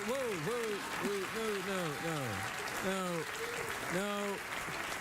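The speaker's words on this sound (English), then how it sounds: "you just gullibly applauded there because he forced you into it" A late-night talk show studio audience applauds as a steady wash of clapping beneath someone speaking prominently over it, the applause held at a moderate level throughout.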